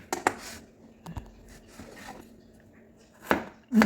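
Garlic being chopped with a knife on a cutting board: a few sharp, separate knocks with quiet gaps between them, close and clear, ending in a louder cluster of cuts.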